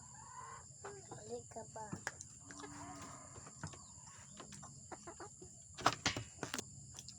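Chickens cluck and squawk nearby in short irregular bursts, with a louder flurry near the end, while a person speaks briefly over them.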